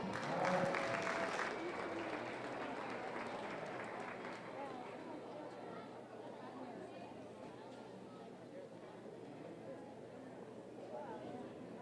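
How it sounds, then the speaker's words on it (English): Applause for a youth fair commercial heifer show class swells at the start, then settles into a steady, crowd-wide patter with chatter and an announcer's voice over it. "Give them a round of applause."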